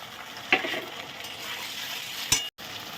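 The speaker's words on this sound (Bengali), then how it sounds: "কোঁচানো পেঁয়াজটা দিয়ে ভালো করে ভাজা ভাজা করে নেবো" Onions with tomato, ginger paste and green chilli fry in hot oil with a constant bright sizzle, punctuated by two brief clinks of a spatula stirring the pan, and no voices.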